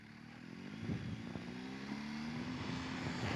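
Motorcycle engine under acceleration in first gear on a ride near Sturgis, a rising harmonic whine that climbs and shifts, with a steady loud drone and rumble throughout.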